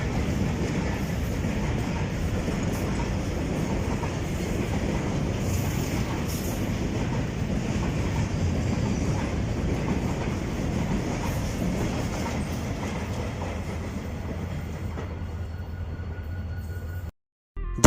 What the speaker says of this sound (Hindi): अब ट्रैक पर एक एक्शन, एक कंटेनर ट्रेन जो कंटेनर लिए पंजाब की जानिब रवां दवां है।